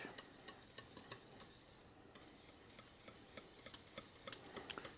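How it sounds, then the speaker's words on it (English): A whisk scrapes rapidly in a pan as grated Comté cheese melts into a Mornay sauce, giving quick, close metallic clicks and swishes with a brief pause midway. No one speaks. "We can add some of the cheese that we grated. Melt it in nicely with a whisk."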